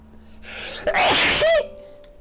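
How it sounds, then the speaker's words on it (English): One close, loud sneeze: a short breathy intake followed by a sharp burst that trails off quickly, with no talking. "And I'm gonna sneeze."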